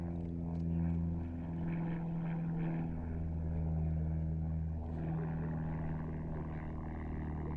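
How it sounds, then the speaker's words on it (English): An aerobatic propeller plane flies a display at an air show, its engine drone steady and fairly distant, swelling and easing gently as it moves. "Ladies and gentlemen, fabulous aerobatics from Christoph Simon"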